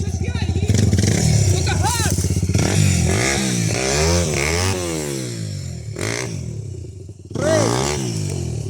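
Two dirt motorcycles, an EXDRIVE XR-250 and a LONCIN LX300 with 40,000 km of use, labor through a swamp, their engines loud and close, revving up and down in strained surges with brief drops between bursts.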